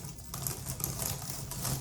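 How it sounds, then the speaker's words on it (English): Fast, continuous typing on a computer keyboard, close and steady for the whole moment, with dense overlapping clicks and no talking. "But yeah, this is me typing."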